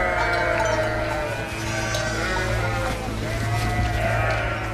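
Sheep bleat in a sound effect, several overlapping calls rising over a steady farmyard backdrop, loud and close throughout with no talking.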